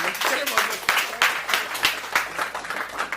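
Audience at a Hindi kavi sammelan poetry gathering claps loudly, a dense burst of applause with sharp individual claps standing out, with a voice speaking over it.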